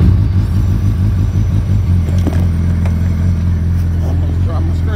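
A 2012 Suzuki Hayabusa GSX-R1300 with dual Yoshimura exhausts idles with a loud, steady, deep rumble close by, with a few light mechanical clicks over it.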